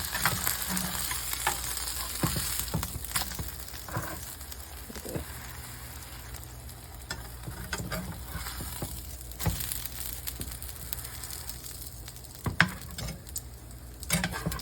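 Beef patty flipped in a hot pan, with steady close sizzling and frying hiss throughout and occasional scraping spatula knocks, no talking.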